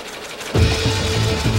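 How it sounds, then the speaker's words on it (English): A weaving loom runs at a woolen mill, pulling yarn into fabric. It starts up abruptly with a loud, dense mechanical clatter and continues as a rapid, steady rhythmic thumping close by. "Behold the loom, the machine that turns yarn into fabric."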